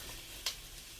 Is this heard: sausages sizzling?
yes